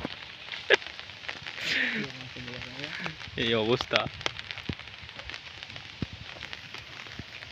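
Rain falling outdoors at a village fishing spot with three people under one umbrella, a steady fine patter of drops under brief talk.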